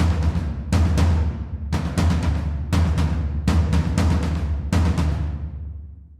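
A mid-pitched drum layer in a percussion arrangement plays a steady rhythm of about seven or eight resonant strikes, some close together in pairs, each ringing out, loud and up close with no speech.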